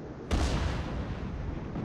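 Secondary gun batteries on a warship in a naval game fire with a sudden heavy boom that rolls into a sustained loud rumble, with another shot starting at the end.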